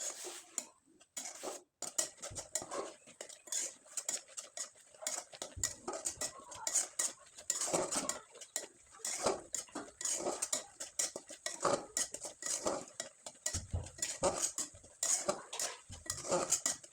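A spoon stirs and scrapes sweet coconut filling with milk in a metal pan, making a close, busy clatter of rapid, irregular knocks and scrapes that runs almost without pause.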